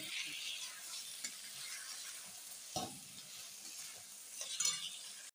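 Tomatoes, whole garlic cloves and ground coriander sautéing in a pan for chicken curry, giving a continuous soft sizzle with occasional spoon stirs and scrapes, close and fairly quiet.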